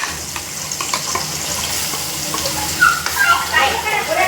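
Ground masala paste hits hot oil in a kadhai for matki bhaji, giving a loud continuous sizzle with crackling pops that brighten toward the end.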